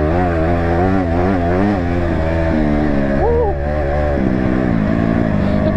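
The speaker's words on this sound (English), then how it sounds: "Supermoto off-roading." A supermoto motorcycle engine drones loud and close while riding off-road over a dip, pitch rising and falling with throttle changes and no speech over it.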